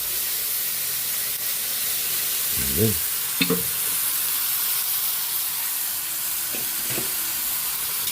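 Soy sauce and a splash of vinegar hit a hot pan for chicken adobo, producing a continuous hiss of sizzling broken by a few brief utensil clinks.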